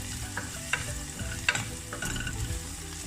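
Onions and garlic sauté in a pan while being stirred, giving a close, steady sizzle broken by several sharp scraping strokes of the utensil.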